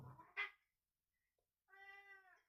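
A cat meows twice, close and fairly faint. A short chirpy call comes first, then after a silent pause a longer, drawn-out tonal meow, with no talk.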